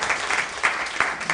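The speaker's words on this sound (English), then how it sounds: "let's clap for these people" Audience clapping at a youth resilience talk, a brief dense patter of many hands with a few louder accented claps, steady over a second and a half.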